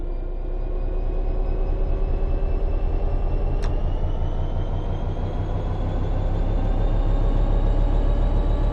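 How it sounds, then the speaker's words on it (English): A locomotive in Train Sim World 3 pulls away under throttle, a steady low engine drone with rising tones as it gathers speed. A brief sharp click sounds partway through. "Apply some throttle to get the train moving."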